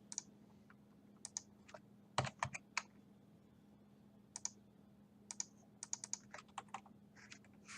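Rapid clusters of computer keyboard keystrokes in bursts and pauses, close and fairly quiet, over a steady low electrical hum in a home trading setup.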